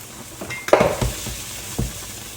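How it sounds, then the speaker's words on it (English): Onions caramelize in a pan over just-above-medium heat, giving a soft sizzle under a few stirring scrapes and one sharp clink of a utensil against the pan, close by and brief. "the onions now have been cooking for about 20 to 25 minutes"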